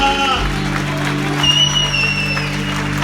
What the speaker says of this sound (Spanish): Aplauda al Señor con fuerza.